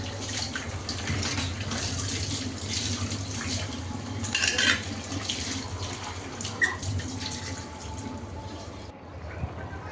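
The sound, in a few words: washing dishes and plates with water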